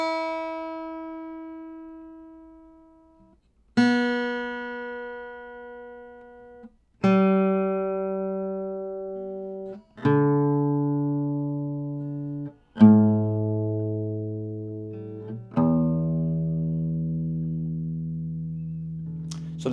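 Six guitar strings tuned to 432 Hz and plucked one at a time from high E down to low E, each note ringing out and slowly decaying before the next, with pitch dropping step by step, alone and clear.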